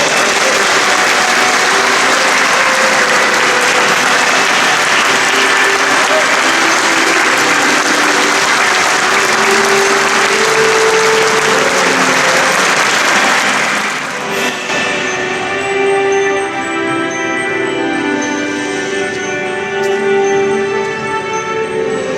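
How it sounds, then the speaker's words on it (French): Audience at the Jurade de Saint-Émilion ceremony applauding newly inducted jurats, a long dense wash of clapping from a large crowd that thins after about fourteen seconds, with softer scattered clapping and faint murmur continuing to the end. "Je voudrais qu'on les applaudisse."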